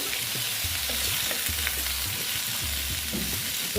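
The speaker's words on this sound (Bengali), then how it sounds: "একসঙ্গেই দিয়ে ভেজে নিচ্ছি" Pumpkin pieces fry in a pan with a steady, close sizzle broken by intermittent scraping stirs, no voices.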